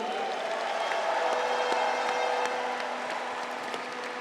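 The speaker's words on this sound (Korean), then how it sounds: "선출되신 최고위원님들과 아쉬움을 삼키신 후보님들을 위해서도 힘찬 응원과 격려의 박수 부탁드립니다" Applause and encouraging cheers from a crowd at a political party convention after the leadership vote, a steady wash of clapping with voices mixed in, carrying on evenly throughout.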